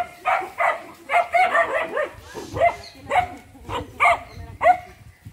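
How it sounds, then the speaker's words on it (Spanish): Several dogs at a home bark repeatedly in quick bursts, with high yips and whimpers mixed in, loud and close, with no other sound between barks. "ya acá están los perritos"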